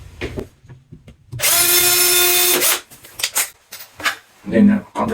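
A power drill pre-drills a hole in an IKEA Pax wardrobe unit, a loud steady whine lasting just over a second with rising and falling pitch, close by, with short knocks and handling noises around it.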